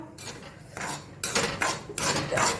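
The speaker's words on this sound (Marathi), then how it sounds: "आता आपण एक ताट घेऊया ताटात रवा काढून ठेवूया" Semolina poured and scraped onto a plate while making soft hotel-style upma, heard as a few close, gritty rasping bursts with light metallic clinks, growing louder toward the end, with no talking.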